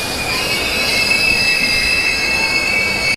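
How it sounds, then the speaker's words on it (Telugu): A train pulls out of Vadodara Junction, its wheels squealing in a loud, sustained high-pitched screech over a steady rolling rumble that continues evenly for about three seconds before stopping abruptly. "10 నిమిషాలు లేట్గా మన ట్రైన్ అయితే వడోదరా జంక్షన్ స్టార్ట్ అయిపోయింది"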